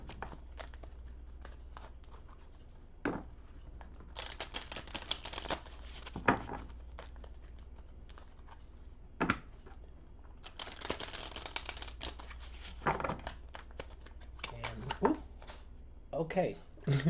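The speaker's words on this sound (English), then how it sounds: "I'm going to give the cards another good shuffle." A deck of tarot cards being shuffled, soft papery riffles and crinkly bursts coming in uneven clusters, quiet and close with faint handling clicks between them.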